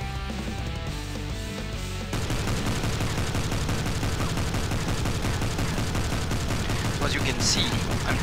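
Continuous rapid gunfire in the indie video game Silver Bullet, a dense, steady rattle of shots that starts after a quieter musical opening, with someone talking over it.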